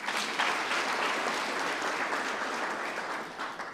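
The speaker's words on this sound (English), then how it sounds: "Can we give our cultural performers another round of applause?" An audience claps for cultural performers at a national research excellence awards evening in Namibia, a dense, even round of applause that carries on steadily throughout.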